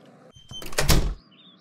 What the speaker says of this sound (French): C'est comme si j'avais entendu le bruit de la porte qui se fermait